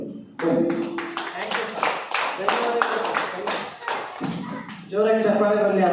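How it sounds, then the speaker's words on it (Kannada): An audience at a health product meeting claps in a quick, even rhythm of about a dozen sharp hand claps, followed by a voice starting to speak at the end. "ಜೋರಾಗಿ ಚಪ್ಪಾಳೆ ಬರಲಿ"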